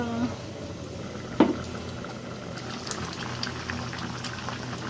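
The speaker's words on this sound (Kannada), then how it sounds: "ಬದನೆಕಾಯಿ ಆಲೂಗಡ್ಡೆ ಸಾಂಬಾರಲ್ಲ, ಗ್ರೇವಿ. ಸೊ ಅದು ಕುದೀತಾ ಇದೆ." Eggplant and potato gravy simmers in a pot with a steady, soft bubbling that runs throughout, broken by one brief clink near the start.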